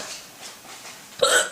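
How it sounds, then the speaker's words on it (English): A woman's single sharp hiccup bursts out near the end, loud and close after a stretch of quiet, breathy room sound. "I don't want to hiccup anymore."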